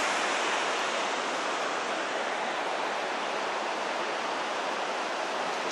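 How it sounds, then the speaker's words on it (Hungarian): A small waterfall on a tributary of the Adda river in the Alps rushes in a constant, broad, close roar of falling water, steady from start to end, with no voices. "Kis vízesés."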